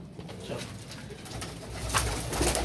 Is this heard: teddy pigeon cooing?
yes